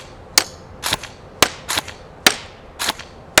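Matrix Sportsline G3 M4 airsoft rifle firing single shots at a 75-foot target, sharp loud cracks spaced roughly half a second apart, some in quick pairs, with no talking.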